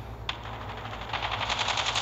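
Rapid automatic gunfire in the video game Call of Duty Mobile, a fast rattling burst of shots that starts after a brief pause and keeps going, fairly faint, with no talk.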